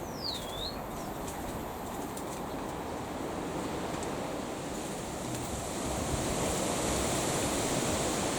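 Strong wind blows steadily outside a bird aviary, a broad continuous roar that swells slightly louder toward the end, with a brief bird call near the start.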